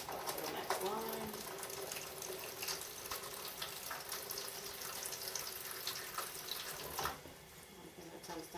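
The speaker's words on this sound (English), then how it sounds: "Add more water." Tap water running steadily into a plastic volcano model being flooded to draw contour map lines, a soft continuous hiss and splash at low level, with a brief squeak early on and a small bump near the end.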